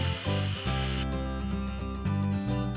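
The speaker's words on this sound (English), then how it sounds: "We're using a circular saw for the long cuts" Circular saw cutting a wooden step-stool leg, a loud dense whine broken by short dips and surges as the blade bites through the wood, close and steady throughout.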